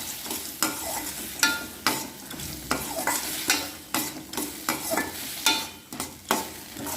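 Chutney ingredients with roasted gram sautéing in a pan, a spatula scraping and stirring in a steady rhythm of repeated strokes over a continuous close sizzle.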